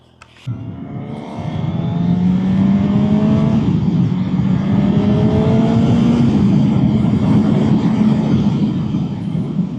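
Honda Hornet 1000 motorcycle in sport mode, engine revving up with a rising, loud roar that holds steady as it pulls away, no talking.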